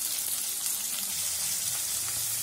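Onion, dried chillies and curry leaves frying in hot oil, a steady close sizzle with soft crackling that holds evenly throughout, no voices.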